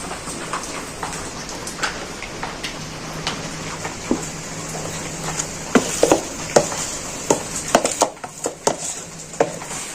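Egg, lentil and pumpkin batter spooned onto an oiled plate inside a covered kadai gives scattered clinks and soft splats over a steady sizzling hiss, growing busier toward the end.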